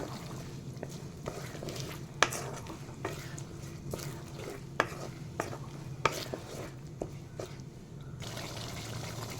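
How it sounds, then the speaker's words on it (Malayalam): Rambutan stirred into a boiling pickle mixture, soft intermittent scrapes and knocks of a spoon against the pot over a low bubbling hum, quiet and close. "നമ്മൾ എടുത്ത് വെച്ചിരിക്കുന്ന റംബൂട്ടാൻ ഇതിലേക്ക് ഇട്ട് കൊടുക്കുക നന്നായി ഇളക്കി കൊടുക്കുക"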